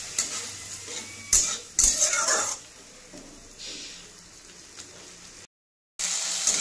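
A paste of ground poppy seed, cashew and melon seed fries in oil for a yogurt catla fish curry, a soft crackling sizzle broken by sharp spoon-on-pan clinks, with a brief gap of silence.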